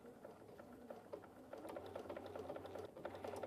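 A Bernina sewing machine runs steadily, stitching a lap seam with the lap seam foot: a quiet, close, rapid mechanical patter of needle strokes with no talking.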